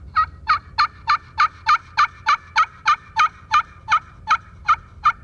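A slate turkey call imitating a hen during spring turkey hunting, giving a steady run of about fifteen even yelps, loud and close, with no voices.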